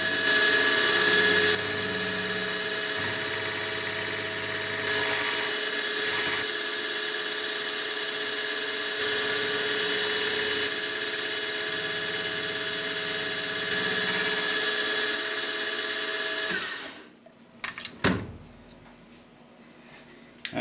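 A machine tool cuts sensor covers with a steady, loud whine and grinding hum that runs for about seventeen seconds, then stops abruptly, leaving a few faint clanks and handling knocks.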